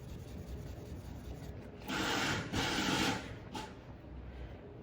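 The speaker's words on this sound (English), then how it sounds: "all the scratches are gone because I have the new sandpaper, and I'm going to do some over here" Fine sandpaper rubbing back and forth over scratched car paint, a soft rasping scrape that swells into a few louder strokes in the middle, close and otherwise quiet.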